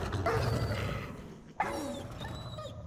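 A dog barking in the game Wolfenstein The Old Blood, a couple of yips and barks, one sharper bark near the middle, over game ambience.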